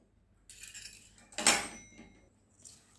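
Jaggery and salt being stirred into broccoli paratha batter in a metal bowl: faint clinks and scrapes of a spoon, with one sharper ringing clink in the middle, and no voices.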